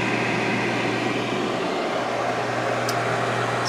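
A homemade spray booth fan built from a rear projection TV blows air steadily, a constant near whooshing hum with a low drone, uninterrupted and alone.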